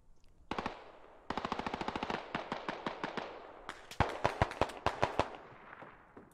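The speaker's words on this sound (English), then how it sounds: "They're shooting at me." Gunfire in the video game SquadOps: rapid automatic bursts of sharp cracks, one short burst and then a longer rattling string, followed by several louder, more spaced single shots, nearby and without talk.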